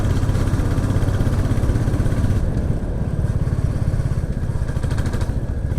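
A Royal Enfield Classic 350 motorcycle engine runs steadily and loud, with a low throbbing rumble and mechanical clatter throughout, as if heard while riding.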